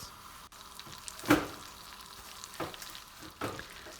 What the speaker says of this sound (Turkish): Kızgın tavamızın içerisine 100 gram tereyağını alıp eritiyoruz.